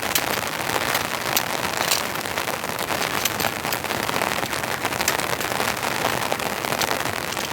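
Heavy rain drums steadily on a storm-proof bunker hot tent at a campsite, a dense, unbroken patter of close drops with no pauses and no voices.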